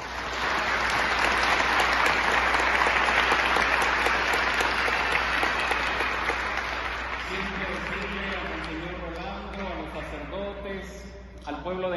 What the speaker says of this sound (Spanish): y le damos un fuerte aplauso.